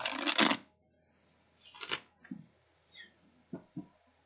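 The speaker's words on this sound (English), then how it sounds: "shuffle the cards a bit" Several bursts of rapid riffling of playing cards being shuffled, separated by short pauses and a few soft taps; close and fairly clear with no talking.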